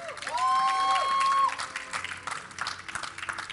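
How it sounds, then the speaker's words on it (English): Live crowd at a League of Legends grand finals esports match cheering and applauding loudly for about a second and a half, with a sustained shout, then settling into scattered claps and murmur. "if you guys want to cheer for the blue team, for Dignitas, let me hear you guys in the crowd."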